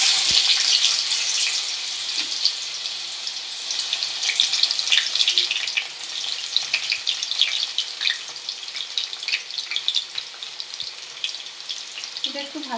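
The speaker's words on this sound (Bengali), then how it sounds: "এটা একটু ভাজা হোক।" Finely chopped potatoes fry with cumin seeds in hot oil in a wok, giving a steady, bright sizzle with occasional soft pops and clicks from stirring throughout.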